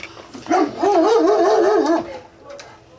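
A dog barks and howls close by in a garage during turn-signal flasher repair on a 2000 Jeep XJ, a loud wavering run of yowls lasting over a second, then quieter whines.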